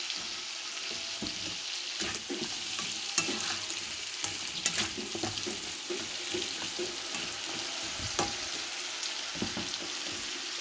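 Okra stirred in a frying pan while cooking pinakbet, with a quiet continuous sizzle broken by frequent soft scraping and clinking of the spoon against the pan, close and with no voices.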